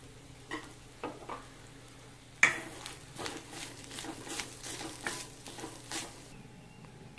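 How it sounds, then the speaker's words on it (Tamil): Coconut fries in hot oil in an iron kadai over full flame for Kerala-style prawn theeyal, giving a light sizzle broken by repeated scraping stirs that grow busier after the first couple of seconds. "நான் வந்து அடுப்பை வந்து ஃபுல் ஃப்ளேமில் வச்சு தான் வறுக்கிறேன்."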